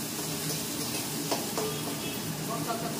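Vegetables and chilies fry in a pan with a steady, close sizzle that stays loud and even throughout, joined by a few brief stirring clinks.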